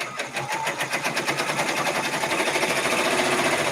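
A multi-needle embroidery machine stitches a design in dark gray thread, a fast, steady mechanical clatter with a regular rapid pulse, close and fairly loud, no speech over it.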